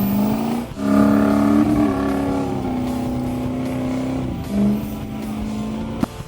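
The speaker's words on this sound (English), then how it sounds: "Pull it with the skid steer" A skid steer engine drones steadily and loudly up close while pulling a shipping container across a ranch, its pitch wavering slightly with brief surges as the load drags.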